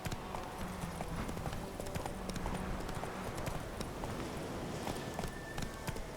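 Roach, the horse in The Witcher 3, gallops with steady, rapid clip-clop hoofbeats over a dense, noisy game soundscape, loud and continuous throughout.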